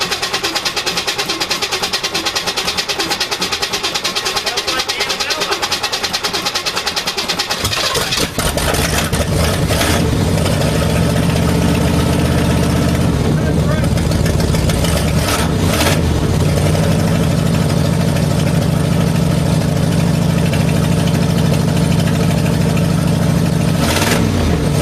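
A 1983 Chevy Squarebody truck engine cranks, then catches and settles into a loud, rough idle. It revs up in a few surges close by, with no talking.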